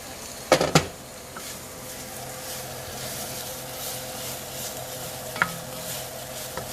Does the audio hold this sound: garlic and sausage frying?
yes